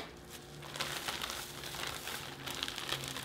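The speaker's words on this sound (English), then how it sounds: "you'll just smash the cake in the bag" Crumbled cake being smashed inside a plastic bag, giving a steady, close crinkling and rustling of plastic that runs throughout with small crackly bursts and no talk.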